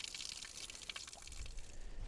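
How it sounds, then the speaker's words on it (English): A small natural water source at a wet woodland campsite trickles and drips softly nearby, a faint continuous splashing patter with a low rumble building toward the end. "we've got this little water source, look"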